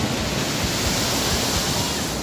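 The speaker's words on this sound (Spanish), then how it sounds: "A esta hora ya la marea sube más, entonces por lo tanto las aguas son más embravecidas" Rough, high-tide ocean waves crash and roll continuously on a beach in Barranca, Peru, a dense, steady surf roar with low thumps from breaking water and no voices.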